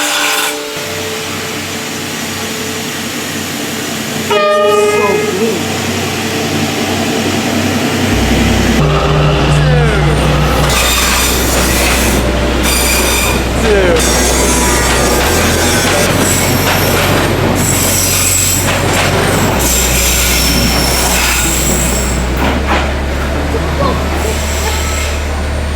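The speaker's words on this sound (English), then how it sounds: "the train literally comes like this close to the buildings" Train rolling close past buildings on Hanoi's train street, a loud continuous rumble with wheel squeal and screeching that builds and holds for a long stretch, with people talking faintly.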